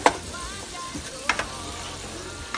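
Vegetables sear in a pan that is not quite hot enough, giving a faint, thin sizzle with a few sharp utensil clinks against the pan and no talking.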